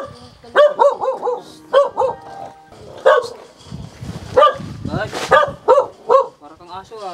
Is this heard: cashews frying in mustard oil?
no